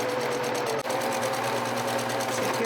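A sewing machine stitching a trouser waist alteration runs steadily and close at an even, fast whirring rhythm, with one very brief dip partway through and no talking.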